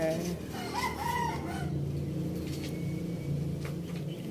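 A rooster crows in the background, its call rising and falling over steady ambient noise, with another bird clucking faintly nearby.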